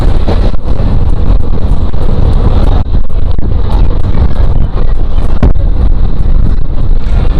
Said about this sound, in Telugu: ఇదంతా ఫుల్ గాలి వస్తూ ఉంది